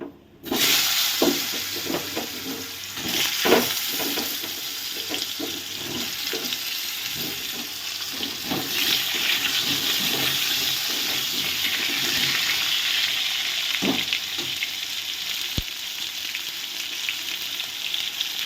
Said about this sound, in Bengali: এবার এই তেলে আমি কাটা আলুগুলো দিয়ে দেব